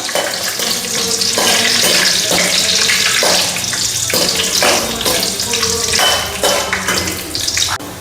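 Cashew nuts frying in a pan until golden brown, a dense, continuous hiss and sizzle close up and fairly loud throughout.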